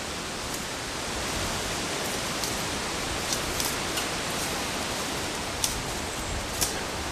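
A light breeze moves through quiet woods as a steady, soft hiss with a few faint ticks scattered through it, and no voices or animals are heard.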